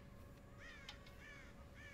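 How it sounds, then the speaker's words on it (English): Crows caw on a farm in the Red Dead Redemption video game, a few distant, faint caws spaced apart over a low steady ambient hiss. "God damn crows!"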